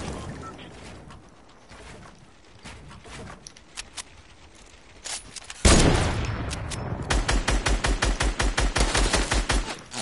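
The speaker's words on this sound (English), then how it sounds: "There's people shooting behind us, too." Gunfire in a PS4 shooter: scattered distant shots give way to a sharp loud blast, then a fast, steady run of loud, close, evenly spaced shots, with busy battle noise throughout.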